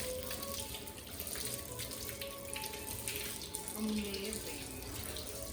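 Water running steadily from a tap while hands are washed, a continuous soft splashing stream into a sink, with a brief spoken exclamation heard over it.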